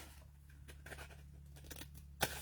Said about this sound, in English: And then I can come in with my scissors